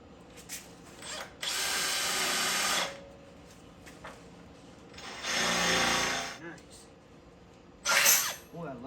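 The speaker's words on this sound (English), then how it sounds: "Boy, a good cobalt drill bit is the bomb." A power drill fitted with a cobalt bit bores through slab wood from a portable sawmill, whining in two long bursts of roughly a second and a half each plus a short final run, with someone speaking between them.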